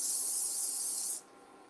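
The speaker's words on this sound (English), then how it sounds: "So we're going in with the spray." Cooking spray hisses onto a skillet in one steady, close burst lasting about a second before cutting off abruptly, leaving faint room noise.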